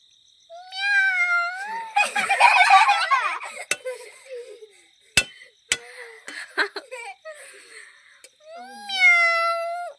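A voice imitates a cat with drawn-out meows at the start and end, with giggling and laughter in between.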